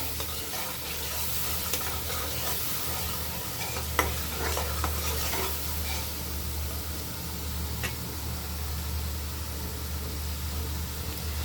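Bitter gourd and drumstick curry sautés in oil with a continuous low sizzle and scraping stir sounds, a few clinks of a utensil, over a steady background hum.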